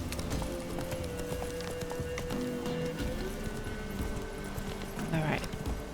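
Hooves of the horse Roach clip-clop steadily at a run through The Witcher 3: Wild Hunt, with game ambience around them and a player's voice talking over the hoofbeats.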